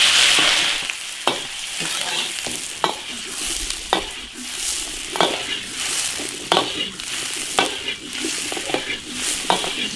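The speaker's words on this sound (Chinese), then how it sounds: "先把牛肉下锅煸" Beef sizzles loudly as it is stir-fried in an iron wok with a little oil, the constant frying hiss broken by sharp, regular scrapes and clanks of a spatula tossing the meat.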